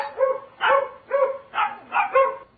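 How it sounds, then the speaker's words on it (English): Two dogs bark together in a played recording, about six sharp overlapping barks and yips in an uneven rhythm, close and fairly loud with no other sound. "So these are 2 dogs."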